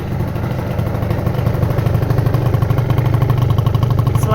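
A freshly assembled Athena Sport 70cc kit on an Aprilia SR scooter runs without its choke, its two-stroke engine holding a steady, buzzy idle up close.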